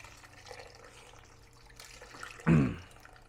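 A whole container of chicken stock is poured out in one short, loud splash near the end, after quiet kitchen background.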